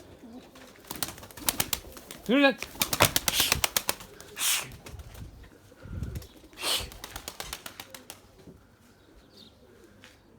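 White Erzurum pigeons cooing in a loft or flight area, with bursts of wing flapping and scattered coos and chirps, fairly close, intermittent and uneven, and a brief man's word in Turkish.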